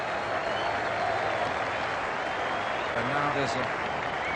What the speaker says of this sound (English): a huge cheer, not for that man putting on the sweater, but for the gentleman who has just removed his